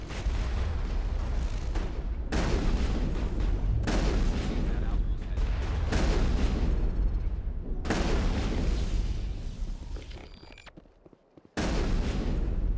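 Mass Effect combat at Saren's research facility: dense bursts of gunfire and booming explosions roll in long loud waves, fall briefly quiet, then resume with a sudden heavy blast.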